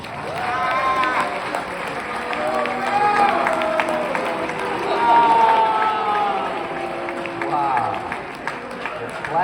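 A live concert audience claps steadily while the band is introduced, the clapping mixed with loud voices and cheering from the crowd.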